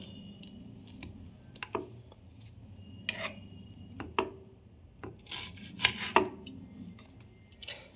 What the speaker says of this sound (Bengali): এইভাবে সমস্ত লঙ্কাগুলো আমি কেটে নেব